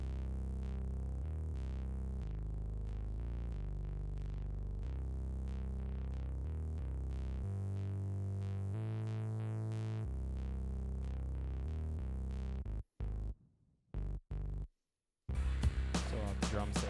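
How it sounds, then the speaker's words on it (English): Soloed bass part from a music mix, shaped with EQ that trims a little of the highs, playing sustained low notes steadily for about twelve seconds before cutting out in choppy bursts, then a brief mix fragment returns. "So the bass on its own sounds like this."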